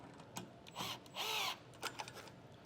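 Self-tapping screws are driven with a power drill into tabs on a Blue Ox base plate during diode wiring on a 2018 Jeep, giving a few short whirring bursts with ratcheting clicks, close and moderately loud.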